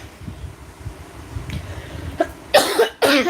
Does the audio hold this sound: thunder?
no